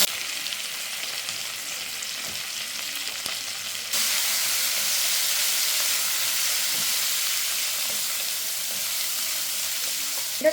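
Potatoes fry in oil with panch phoron spices, making a dense, steady close sizzle that jumps louder partway through and then holds as a continuous hiss, with no voices.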